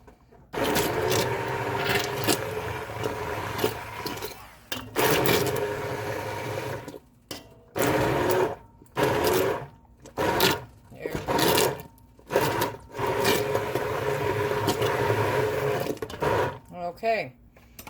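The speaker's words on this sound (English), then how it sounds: "You also can put these in a food processor." A food processor mashes blueberries for jam in a home kitchen, whirring in short bursts separated by brief pauses, close by and moderately loud.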